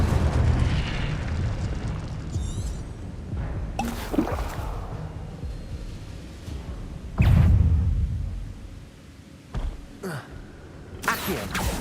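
Incendio fire spells burst in Hogwarts Legacy with repeated loud whooshing blasts and booms, the heaviest one around seven seconds, separated by quieter rumbling and short crackles.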